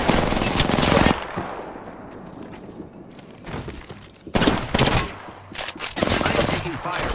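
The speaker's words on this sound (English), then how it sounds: "I am taking fire, friends." Video game gunfire in bursts of rapid automatic shots, loud and close, separated by quieter stretches with faint voices and scattered clatter.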